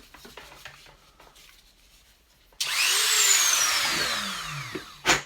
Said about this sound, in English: Just need to drill it out a little bit bigger